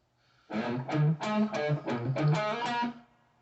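A short, punchy distorted electric guitar riff with a booster pedal kicked in, several quick chugging notes, played loud and close, ending abruptly.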